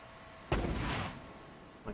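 A mortar shell fires in the war strategy game Cepheus Protocol, one loud booming blast that rumbles off over about a second, then a smaller distant thump follows.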